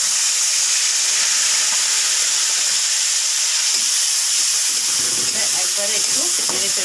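Ground spice paste and two dried red chillies hit hot oil, producing a loud, steady, close sizzling hiss, with a brief voice rising faintly under it toward the end.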